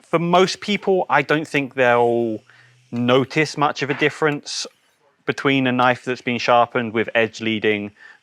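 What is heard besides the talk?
No everyday noises stand out.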